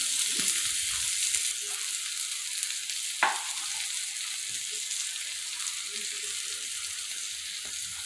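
Onion and tomato for chutney sizzling steadily in oil in a pan, a continuous hissing fry with a brief clatter of stirring partway through.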